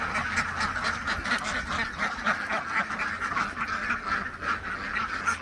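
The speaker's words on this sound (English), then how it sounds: "dump the food on the ground, and then let the ducks come get it." Ducks quack busily near their coop while eating food dumped on the ground, a dense, continuous chorus of close, overlapping calls.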